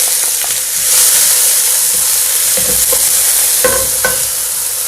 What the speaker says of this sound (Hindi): अब हम इसमें, ये थोड़ा सा फ्राई हो गए हैं पत्ते, इसमें हम प्याज अपनी डालेंगे।